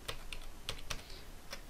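Computer keyboard keys pressed for an Alt+0215 shortcut on the numeric keypad: about five sharp clicks at uneven intervals, close and fairly quiet, with no talk.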